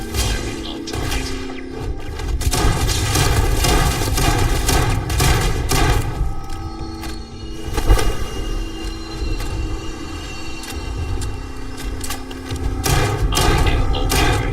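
Ship weapons in Starfield fire on a target during a space battle, a steady barrage of heavy thuds and rapid bursts over a dense, continuous rumble, loud and sustained throughout.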